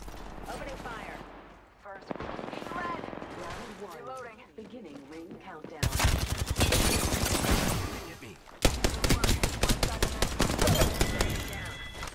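Rapid gunfire in the video game Apex Legends, loud bursts of automatic fire that grow denser and more continuous toward the end, mixed with game voices and effects.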